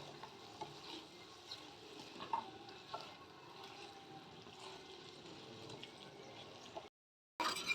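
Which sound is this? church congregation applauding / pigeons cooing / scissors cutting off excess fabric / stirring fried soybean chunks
stirring fried soybean chunks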